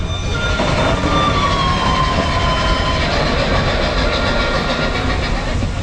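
Big Thunder roller coaster train at Magic Kingdom rumbling past, a loud continuous rolling rush with clattering wheels and a thin metallic squeal near the start.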